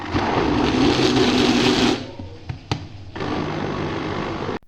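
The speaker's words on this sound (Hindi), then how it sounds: "तो जूसर ब्लेंडर में इसको हम डाल लेंगे, और साथ जो है थोड़ा सा पानी ऐड करेंगे ताकि गोश्त जो अच्छी तरह से ग्राइंड हो जाए।" A juicer blender grinds mutton with a little water for Amritsari hareesa, a loud steady motor whir that cuts out for about a second, then restarts and runs on steadily with no talk.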